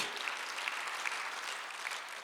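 A church congregation at a Sunday worship service claps together in a dense, even burst of applause that fills the whole short stretch, heard slightly distant in a large room.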